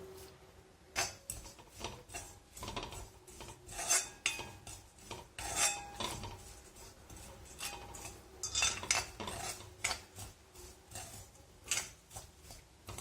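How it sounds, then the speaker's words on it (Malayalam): Whole spices, cloves, cinnamon sticks and fennel seeds, get stirred in a hot pan, giving a series of close, irregular scraping and clinking strokes of a spoon against the pan with no talk. "ഇതിന് നമുക്കൊരു 2 or 3 മിനിറ്റ് ഇടയ്ക്കിടയ്ക്ക് ഇളക്കി കൊടുത്തോണ്ടിരിക്കാം"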